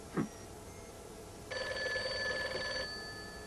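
A telephone bell rings once in a steady burst of about a second and a half, after a brief thud, over a low hum in an otherwise quiet room.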